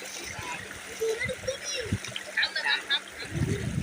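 Swimmers splash about in a river, with irregular nearby splashes and churning water while people talk and shout over it.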